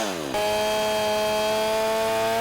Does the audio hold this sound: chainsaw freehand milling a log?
yes